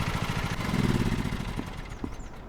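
A lawn tractor engine idles and chugs in Lawn Mowing Simulator, a rough mid-pitched rumble that swells briefly then eases down, close and steady with no talk.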